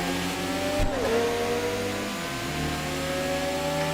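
Car engine in the racing game TXR 2025 revving, a sustained mid-pitched engine drone that dips and rises in pitch as the revs change, loud and steady with no talk.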